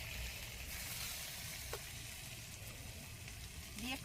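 Fish head and cabbage curry, Bengali style, spiced with salt and ground garam masala, sizzles in a pan as it is sautéed, a steady close frying hiss with a faint scrape of stirring near the end.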